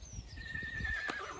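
A working horse whinnies in a short, high, wavering call over faint soft hoof and handling noises, with no talk.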